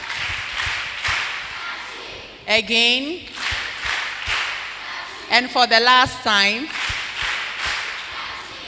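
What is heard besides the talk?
audience doing the cha-ching clap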